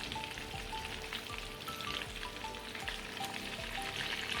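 Blinde vinken meat rolls fry in hot butter over medium heat, a steady close crackling sizzle with scattered pops and spatters, no voices.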